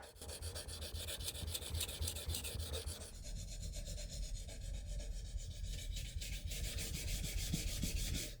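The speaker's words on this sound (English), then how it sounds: "I would always lift up my elbow a little bit, turn my knife upwards, and sharpen the tip" A hori hori garden knife's curved tip is sharpened with steady back-and-forth rasping strokes, a continuous close scraping rub that shifts in tone partway through as the angle changes.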